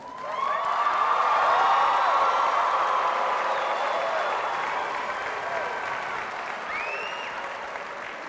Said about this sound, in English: If we could ask that you hold your applause until all graduates' names are announced.